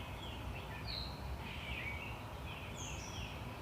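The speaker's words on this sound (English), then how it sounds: "I'm sure you can hear the birds chirping." Faint bird chirps and short whistled calls drift over a steady outdoor background hiss, distant and intermittent.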